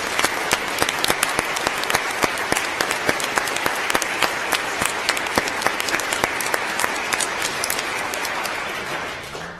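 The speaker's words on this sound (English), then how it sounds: "let's have another round of applause for all of our honors today" A large audience applauds steadily, dense overlapping claps sustained throughout, tapering slightly at the very end.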